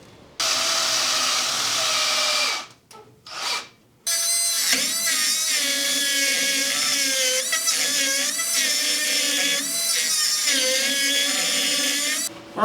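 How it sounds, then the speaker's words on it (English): A drill cuts into the end of a steel motor mount on a classic Jeep, a close, high, whining tone that runs in long stretches with a few brief stops and restarts and shifts in pitch as the bit bites. "So we're going to have to drill it on the end"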